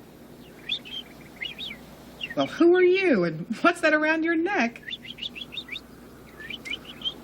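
Small bird chirps in short repeated high tweets, faint in the background, with a person talking over the middle of the passage.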